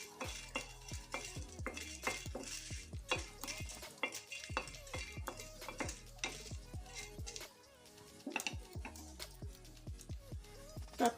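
Chilies fry in a pan for a pickle, with a steady sizzle under repeated rhythmic scraping and stirring strokes of a spoon against the pan, close and alone.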